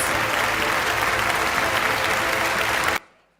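Dense, steady applause fills an awards ceremony hall for a wellness marketing honour, holding at full strength for about three seconds before cutting off sharply into a quiet room tail.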